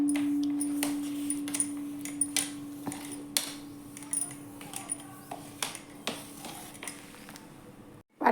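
A ghee-greased steel bowl presses sukhadi flat in a tray, producing a series of light metallic taps and clinks at irregular intervals over a faint steady hum, close by.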